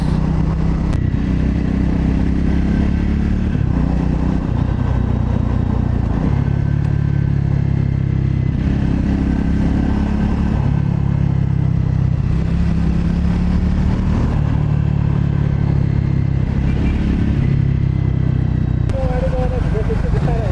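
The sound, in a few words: motorcycle riding with downshifts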